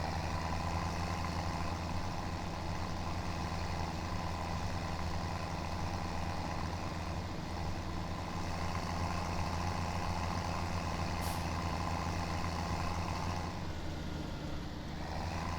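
Tractor in the farming game Farming Simulator 17 runs with a steady, droning diesel engine hum that holds constant throughout, moderately loud with no speech.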